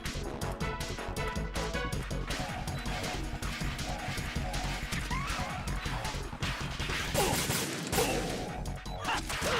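Dense gunfire and crashing impacts from the Metal Gear Solid 2 boss fight, loud and continuous with rapid overlapping shots and clatter.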